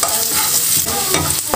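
Shallots and garlic fry in hot oil while being stirred in a pan, giving a steady loud sizzle with scraping stir strokes throughout and no talking.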